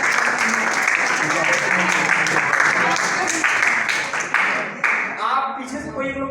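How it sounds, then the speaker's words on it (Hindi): Audience applause fills a school seminar hall on cyber security awareness, a dense burst of many hands clapping together that holds steady for several seconds, then thins out and fades near the end. "बहुत बढ़िया, ताली बजा लेंगे।"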